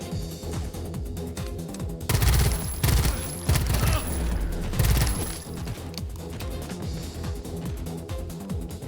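Rapid bursts of enemy gunfire in a sci-fi first-person shooter with colony simulation, fire-shooting guns rattling in dense volleys that swell loudest in the middle and continue throughout.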